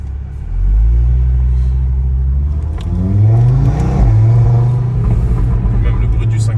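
An Audi RS3 8V2 with a five-cylinder engine, decatted and remapped, accelerates hard. The close, loud engine note climbs in pitch through the revs, dips briefly, then surges and keeps pulling.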